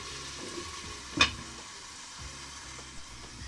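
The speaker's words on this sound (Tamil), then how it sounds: "இப்போ இது ஒரு 5 நிமிஷம் போல் நல்லா வதங்கட்டும்" Chicken sautés in a pan with masala, a low steady sizzle broken by one sharp clink of a spoon against the pan.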